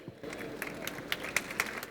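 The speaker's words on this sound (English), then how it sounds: "So let's give our panel one big round of applause" Audience clapping for a panel at an indoor promotional event: a short burst of scattered applause, moderately loud, with individual claps standing out.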